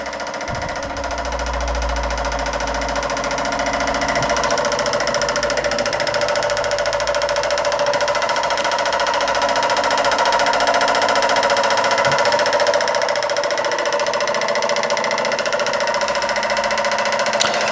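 A Josef Falk vertical boiler model steam engine, an early German toy engine, runs close by with a steady, fast mechanical chatter and hiss that stays loud and continuous throughout.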